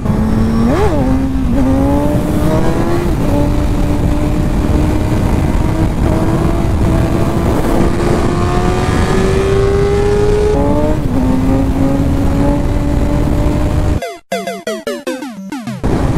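A high-revving 2007-2008 Suzuki GSX-R1000 motorcycle engine screams loudly for a long stretch, pitch climbing through gear changes, then cuts to choppy, broken bursts near the end.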